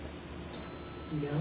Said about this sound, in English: If you're a girl, can you make the device beep?